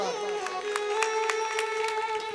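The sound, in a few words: audience clapping during devotional bhajan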